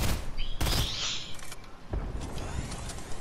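Rapid suppressing gunfire in a battle royale video game, loud sharp bursts and cracks close up amid game effects, with brief gaps between volleys.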